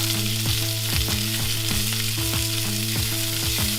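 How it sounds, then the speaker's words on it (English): Veggies cooking in a cast iron skillet, seasoned with salt and black pepper, give a loud, steady sizzle with rhythmic stirring scrapes repeating about twice a second, no voices. "now we're gonna cook our veggies in this same skillet"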